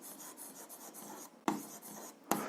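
Pen or marker scratching across paper while an answer to an algebra exercise is written out, a continuous soft rasping stroke punctuated by two sharper taps, close and alone with no voices.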